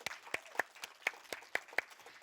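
Applause from an audience at a film screening and filmmaker Q&A, heard as sparse, faint, evenly spaced handclaps, about nine sharp claps in quick succession, with no talking over them.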